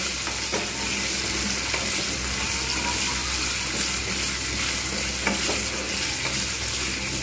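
Chopped onion frying together with taro pieces in a pan for kochu alur dom, a steady close sizzle with stirring scrapes running throughout, no voices.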